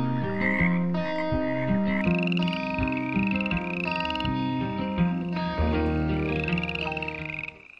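Frogs croak loudly and continuously, with overlapping rhythmic calls pulsing in quick succession, close and alone.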